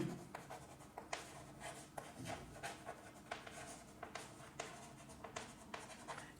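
Marker or chalk strokes on a board during a physics lesson, a steady series of short scratchy scrapes and taps with brief pauses between words, close and fairly quiet, with no talking.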